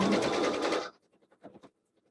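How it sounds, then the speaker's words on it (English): A sewing machine stitching quilt strips for a log cabin block runs in a quick, even burst for under a second, then stops, leaving faint handling clicks. "line up my rotary cut edge, and keep sewing"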